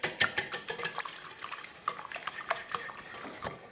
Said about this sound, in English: Whisk the eggs.